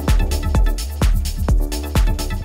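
Techno synth pluck run through a clipper for a slightly distorted, flattened attack, looping over a steady kick drum in a driving even rhythm, upfront and alone.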